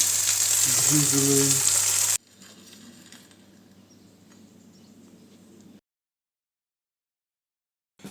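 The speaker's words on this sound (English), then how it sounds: "Look at it, sizzling." Food sizzles loudly in a frying pan with a bright crackling hiss for about two seconds, then cuts to quiet background noise and silence.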